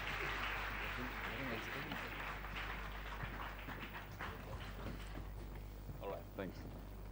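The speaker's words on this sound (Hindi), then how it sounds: "जोरदार तालियां बाबा सहगल के लिए." An audience at the RAPA Awards applauds Baba Sehgal, a steady wash of clapping from a crowd that carries on for several seconds while a voice speaks over it.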